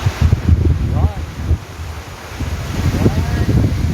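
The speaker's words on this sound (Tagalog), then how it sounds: "Grabe ang wave ng tubig" Sea waves wash along the shore at Alkhout seaside, a steady low roar churned by wind buffeting the microphone, with occasional bird calls and faint voices drifting through the background.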